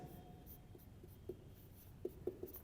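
Faint marker writing on a board for a French lesson, a few soft squeaky strokes and taps spaced out over quiet room tone, with no talk.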